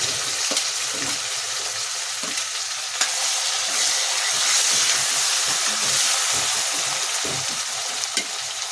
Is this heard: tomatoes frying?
yes